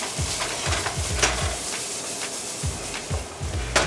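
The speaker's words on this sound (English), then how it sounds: "And we're stirring." A utensil stirring spice-rubbed pork in a hot pan, with scraping strokes coming in uneven bursts over a soft background sizzle, close and moderately quiet, with no talking.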